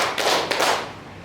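A few sharp hand claps ring out close and loud, in quick succession, from a group clapping-count exercise in a school classroom.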